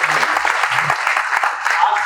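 Audience applause at a Pragya 2026 NET–JRF political science award ceremony, a dense, steady burst of clapping filling the whole short stretch, with a voice heard over it.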